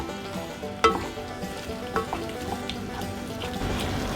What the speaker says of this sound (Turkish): Şöyle tereyağımız erisin.